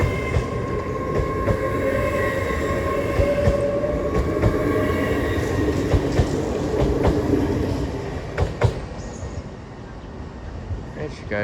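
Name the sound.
Class 800 train departing Doncaster station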